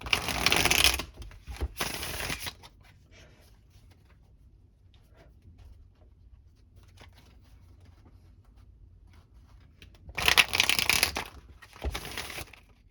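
Quick riffling bursts of tarot cards being shuffled, one at the start and another near the end, with quiet handling noises in between.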